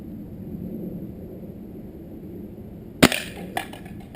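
A pellet gun shot strikes a target outdoors: one sharp, loud crack followed by a brief rattle and a smaller second knock, after a stretch of quiet ambient hum.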